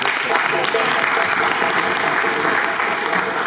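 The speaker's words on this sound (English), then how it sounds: "let's just clap it up for Umoja" A crowd at an Asheville unity and justice march event claps for the Umoja Health and Wellness Collective, a dense, even wash of applause holding steady throughout, with some voices mixed in.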